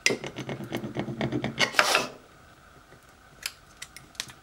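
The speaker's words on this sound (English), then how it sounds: "now, moment of truth, we can peel away our transfer tape" Vinyl transfer tape being peeled off a coffee mug gives a rapid crackling, rasping sound for about two seconds, followed by a few faint scattered crackles and taps.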